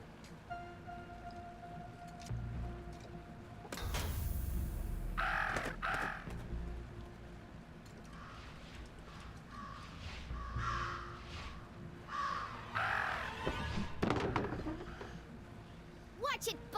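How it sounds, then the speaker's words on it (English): Harsh crow caws in the Jenny LeClue video game, several repeated calls scattered across the scene with thuds and rustling effects, while a person talks over them. "Talk about a murder of crows."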